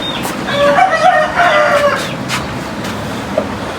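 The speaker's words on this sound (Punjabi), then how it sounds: "ਇੱਕ ਇਹ ਮੁਰਗੀ ਆ, ਇਹ ਮੁਰਗਾ ਆ।" A rooster crows loudly nearby while hens cluck around it, a clear farmyard chorus with no talk over it.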